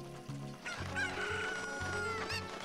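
A cucco chicken clucks and squawks in The Legend of Zelda: Ocarina of Time, its calls rising over looping game music at low volume, with no one speaking.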